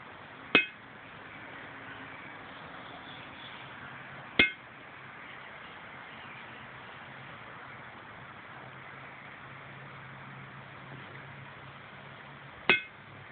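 A steel ball bearing strikes a 1900 Fisher 120-pound anvil three times, each a sharp, bright metallic ping spaced several seconds apart over faint background hiss, with no talk.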